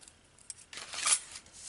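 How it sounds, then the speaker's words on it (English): Scissors cut around die-cut paper frames, making a brief close snipping and rustle of paper that swells and fades within a second. "Then I cut all the frames out."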